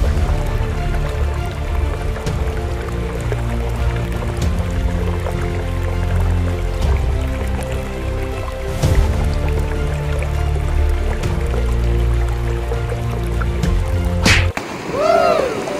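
People wade across a wide river against a strong current, with water sloshing, splashing and gurgling around them continuously and close by, plus occasional sharper splashes.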